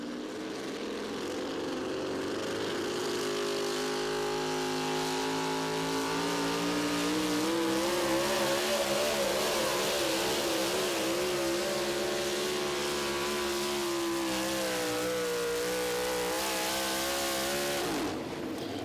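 A four wheel drive pulling truck roars through a run at the 2023 Dairyland Super Nationals tractor pull in Tomah, Wisconsin, its engine a loud sustained bellow that swells and wavers for the whole pull before cutting off abruptly.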